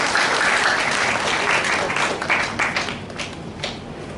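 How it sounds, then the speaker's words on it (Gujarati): Steady audience applause at a senior citizens' club gathering in Salabatpura, Surat, a dense sustained patter of many hands clapping that fills the room and tapers slightly toward the end. "તાળીના ગડગડાટથી બધા"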